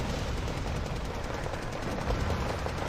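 Guns in the wartime strategy game Wargame: Red Dragon fire steadily at a T-55 tank, producing a dense, continuous rattle of automatic weapons under a heavy low rumble with no gaps.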